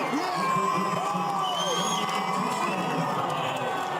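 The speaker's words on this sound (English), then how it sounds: "In public, to greet the crowd from a balcony, he received a big ovation." A crowd cheers and gives a big ovation as the President-elect appears on a balcony to greet them. Scattered shouts and whoops rise over a continuous roar.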